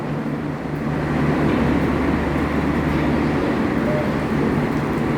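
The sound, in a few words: train at Chatmohar railway station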